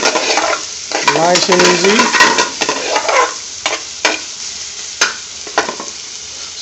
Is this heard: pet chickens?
no